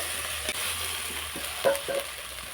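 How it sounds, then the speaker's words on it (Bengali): A spoon stirs cumin paste frying in a pan, with a soft steady sizzle, a few scraping strokes and a brief clink near the end. "এবারে দেব জিরে বাটা জিরে বাটা দিয়ে আবার একটু নেড়ে দেব"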